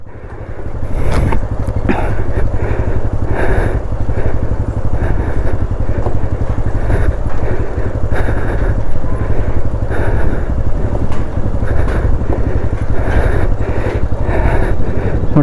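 Motorcycle ridden across the Kushma suspension bridge, its engine thrumming steadily and loud up close, with clattering knocks from the deck recurring throughout.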